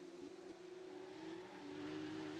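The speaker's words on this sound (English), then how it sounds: "Hearing their engine synchronized down the back straight into the bus stop chicane" Porsche Cup race car engines at Daytona running together down the back straight toward the bus stop chicane, a steady, droning engine note held throughout, fairly distant and faint with no talk.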